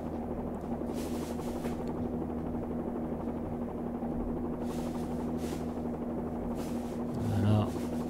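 Simulated Bell 47G 2A1 helicopter in the X-Plane 11 flight simulator drones with a steady rotor and engine hum throughout a landing approach, constant and unbroken, with a short low swell near the end.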